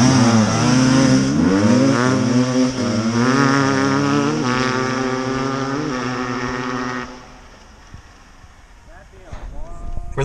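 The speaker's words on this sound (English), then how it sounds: "Got a 2019 Sherco 300 on the left, 2018 GasGas 300 on the right. Get ready to drag race." A 2019 Sherco 300 and a 2018 GasGas 300 dirt bike drag race, two-stroke engines revving hard and loud with rising pitch for about seven seconds, then fading into the distance, leaving quieter outdoor noise.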